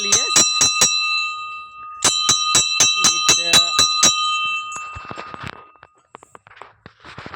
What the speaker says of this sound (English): And let me touch the bell, the ringing bell.